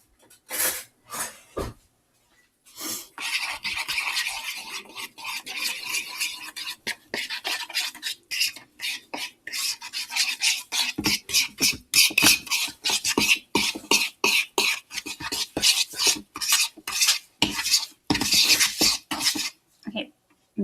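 Melted butter and breadcrumbs stirred in a bowl for homemade macaroni and cheese, a steady run of close scraping and clinking strokes with brief pauses, no talking.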